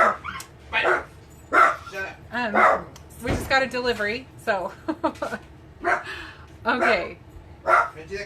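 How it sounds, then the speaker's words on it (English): Dogs bark and yip repeatedly at close range while someone talks over them, the barking coming in short bursts throughout. "Excuse my dogs."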